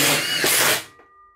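Power drill driving a self-drilling screw through hardwood into a steel post, a loud close whirring burst under a second that cuts off abruptly and fades.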